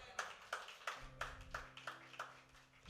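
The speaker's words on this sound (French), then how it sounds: "Acclamons pour le Seigneur." A church congregation claps in rhythm for the Lord, a steady series of about eight sharp beats at a brisk pace, moderately loud, with a low sustained tone coming in underneath partway through.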